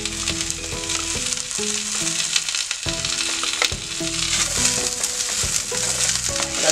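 Turmeric and red chili powder fry in hot oil for a potato dish, a bright constant sizzle under a continuous musical tone.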